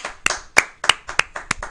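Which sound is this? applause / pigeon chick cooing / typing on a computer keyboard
applause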